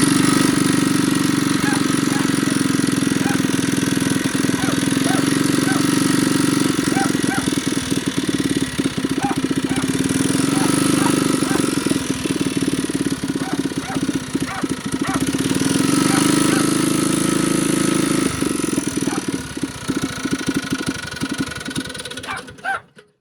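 Small engine fitted with a VM22 clone carburetor runs on choke, a loud steady idle with uneven surges and a rough pulsing beat throughout, cutting off abruptly at the end.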